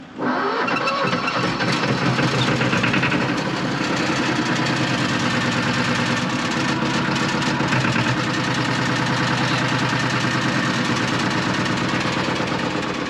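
An F-4 Phantom jet engine starts up and settles into a loud, steady, broadband roar as it idles, continuous and close, with no talking.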